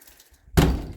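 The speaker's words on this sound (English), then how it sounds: "This frickin' door is like, it slams and then it gets stuck." A sticking door at a camp slams shut with a single loud, close thud that breaks a near-silent stretch and then rings out briefly.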